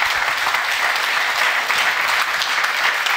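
A studio audience on a French television show breaks into applause, dense continuous clapping, close and loud for the whole stretch.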